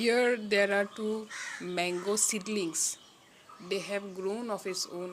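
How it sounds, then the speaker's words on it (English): Birds in a backyard, mostly harsh crow caws, sound repeatedly and fairly close while someone talks over them. "then I could hear a lot of birds chirping in our backyard"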